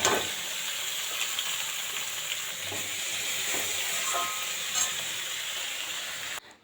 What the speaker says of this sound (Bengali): এই যে সবজির হচ্ছে ফোড়নে দিয়েছি টমেটো, পেঁয়াজ, কাঁচা লঙ্কা